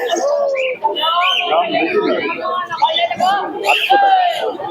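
Pigeons coo at a busy bird market in Santipur, their soft, rolling calls mixed with chirps and constant nearby chatter.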